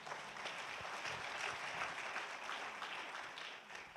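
Audience applause at a fundraising campaign kick-off event, a fairly faint, steady patter of many hands clapping that sustains evenly throughout.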